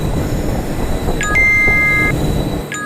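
A train on the Ahmedabad–Jamnagar line rumbles steadily up close, with a dense low rolling roar of wheels, and a thin sustained tone and brief chime-like ringing rise above it partway through.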